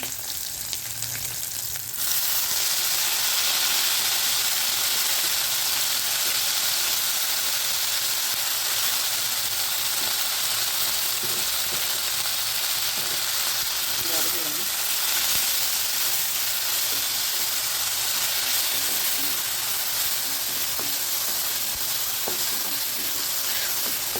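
Mint leaves for a chutney sauté in a hot pan, giving a steady, loud broadband sizzle with occasional stirring scrapes, continuous throughout after a quieter opening moment.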